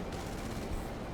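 A Batwing cannon firing in a modded GTA 5, a dense roaring stream of rapid shots, loud and unbroken for a brief burst.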